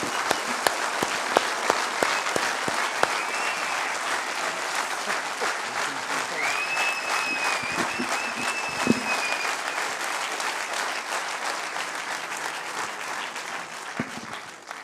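A long, sustained round of audience applause at a film screening and Q&A event with the director and band members, steady dense clapping with scattered louder claps and a faint whistle, continuing for roughly fifteen seconds.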